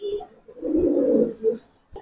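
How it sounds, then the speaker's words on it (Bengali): Old-breed Giribaz pigeons of the Palla line coo in soft, low rolling phrases, one long swelling coo in the middle with shorter ones around it, close by and fairly quiet. "এগুলো হচ্ছে পুরান জাতের কবুতর গুলা।"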